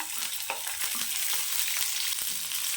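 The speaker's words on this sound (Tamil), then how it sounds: "சின்ன வெங்காயம் சேர்த்துக்கலாம் எண்ணெய் சேர்த்துக்கலாம்" Shallots fry in hot oil for Chettinad mutton gravy, producing a dense, continuous crackling sizzle up close with faint stirring ticks throughout.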